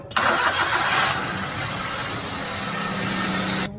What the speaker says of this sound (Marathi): गाडी चालू करा बरं का, मला जर इंजिनचा आवाज बघायचा आहे.